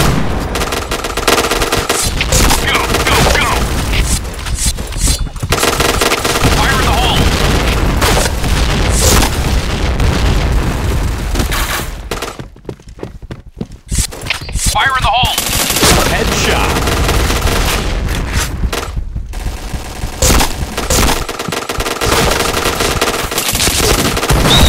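Sustained MP7 submachine gun fire in the shooter game Point Blank, rapid loud automatic bursts filling most of the stretch, with a brief lull midway before the firing resumes just as dense.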